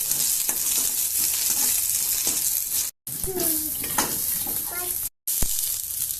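Onion fries in a little oil in a pan: a loud, close, continuous sizzle with stirring scrapes, broken by two very short silent gaps.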